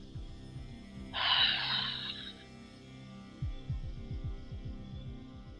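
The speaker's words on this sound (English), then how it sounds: "Beginning now to exhale through the mouth." A single soft breath is exhaled through the mouth during a yoga meditation, a brief airy rush lasting about a second, close and gentle over faint background music.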